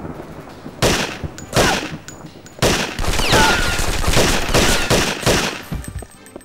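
Walther PPK pistol fire in the James Bond 007 Nightfire shooter: several loud, sharp shots in separate bursts, echoing over a steady game background, with no voices.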